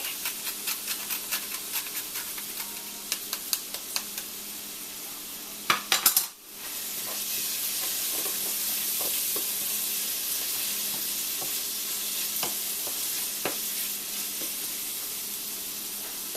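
Herbs and spices frying in butter in a pan, a steady close sizzle throughout with occasional utensil clicks and scrapes and a short louder clatter partway through.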